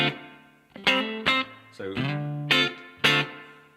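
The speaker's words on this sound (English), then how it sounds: "The reverb I have set, let me turn that on, set as like a sort of spring reverby sort of thing." Electric guitar played through a pedalboard with spring-style reverb, a few sustained chords and notes ringing out with a lingering wash, one brief spoken word at the start.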